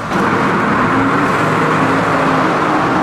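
A Mercedes S65 AMG rolls slowly through the Fort Pitt Tunnel at about 15 mph, its engine a steady, loud, echoing low rumble that fills the enclosed space without letup.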